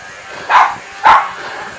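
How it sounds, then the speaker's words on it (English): Two loud, sharp barks from a nearby dog about half a second apart, indoors over a quiet hum. "Sorry about the dog."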